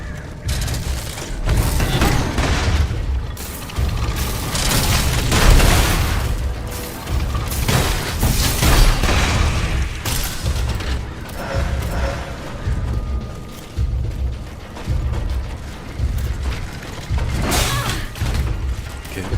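Enemy shooting in a video game, with heavy booming shots and mechanical clatter forming a continuous, loud barrage with little letup and only faint voice traces.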